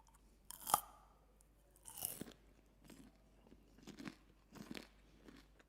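Dark chocolate covered popcorn crunches loudly up close as someone bites and chews, a sharp first crack followed by several softer, rhythmic crunching chews, with no talking.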